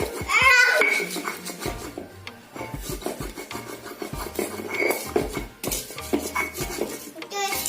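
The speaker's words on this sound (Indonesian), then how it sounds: "Kita ulek cabenya terlebih dahulu." Chili peppers ground in a stone mortar (ulekan) with a pestle, steady rasping and scraping strokes of stone on stone running throughout with occasional clinks, mixed with background voices.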